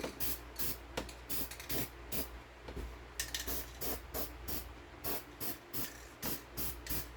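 Rust-Oleum High Heat Ultra spray paint hisses from the can in short regular bursts onto an RV diesel heater, about a dozen quick sprays with brief gaps, close and fairly quiet.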